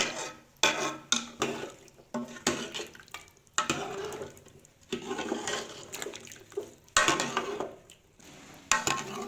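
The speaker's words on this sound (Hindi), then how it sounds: "अब हम इसे चम्मच की मदद से अच्छी तरह से मिक्स कर लेंगे।" A spoon stirs spice masala in a pot of beef paya, giving repeated metallic clinks and scrapes against the pot in uneven bursts with brief gaps.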